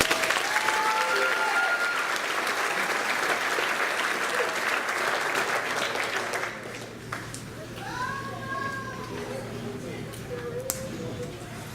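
A crowd applauds the graduating class of 2017 at a high school commencement ceremony, with loud, sustained clapping from many hands that fades after about six seconds, leaving scattered claps and a voice over the room.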